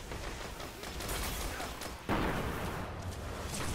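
Shotgun blasts in the video game Destiny, a dense burst of gunfire and impact noise with a sharp loud shot near the middle, under steady game ambience.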